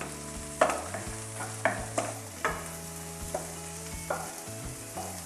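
Green chillies and garlic stir-fried in a pan for Rajasthani methi mangodi, a steady close sizzle broken by repeated scraping strokes of a spatula against the metal, no voices.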